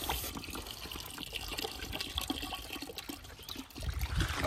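Liquid fish bait is poured out in a steady, close splashing trickle of moderate loudness, without speech.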